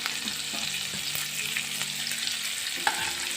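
Onion frying in butter with masala in a pan, a steady close sizzle and hiss with a few soft stirring scrapes and one light clink, no talking.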